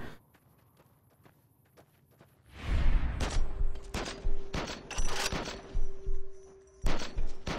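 Gunshots in the Rogue Vegas video game with hitscan weapons, a string of sharp, evenly spaced shots after a quiet start, moderately loud with a faint steady tone lingering underneath.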